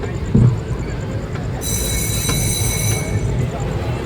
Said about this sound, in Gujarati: અમારી ટ્રેન આવેલી છે